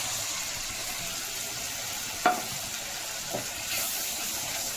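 Spice paste sizzling with onions in hot oil, a steady soft frying hiss throughout with a couple of brief clinks of a spoon against the pan.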